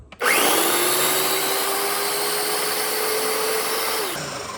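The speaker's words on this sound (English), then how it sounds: "Pop that on the blender." A kitchen blender starts abruptly and runs on low speed, a loud steady motor whine with a faint rising tone, then winds down and stops near the end.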